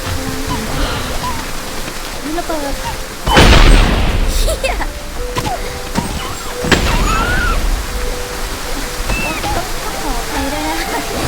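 A short muffled boom bursts out of a steady hissing, rain-like backdrop dotted with small clicks and chirps, in the game Mini World.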